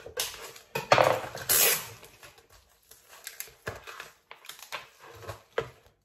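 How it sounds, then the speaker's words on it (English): A kitchen knife chopping onions into small pieces on a board, giving irregular sharp taps and short bursts close by, with no talk over them. "So I'm just chopping my onions into small pieces"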